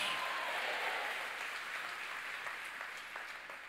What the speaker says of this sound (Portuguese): Pode dar salva de palmas ao Senhor